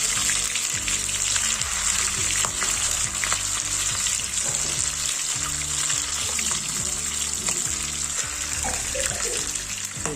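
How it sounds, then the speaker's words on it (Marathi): Lolge fish frying in hot oil that spatters because of the water in it, a loud, dense, continuous sizzle and crackle that holds steady throughout, with no voices. "ते पण एकदम लांब उभे राहून करता कारण ते तेल जरा उडतं, त्याच्यामध्ये पाणी असतं त्यामुळे."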